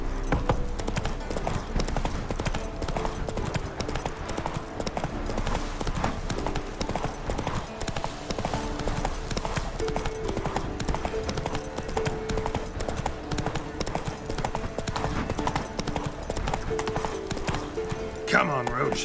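Roach the horse gallops in The Witcher 3, a steady fast clip-clop of hooves running throughout with a faint whinny near the end, alongside a voice and game ambience.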